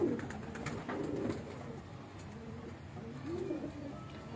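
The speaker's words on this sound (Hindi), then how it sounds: "अब ऐसे कबूतर बहुत कम देखने को मिलते हैं" Pigeons on a rooftop coo in soft, low, rolling calls, a few rising phrases spaced across the stretch over faint background noise, fairly quiet and with no speech.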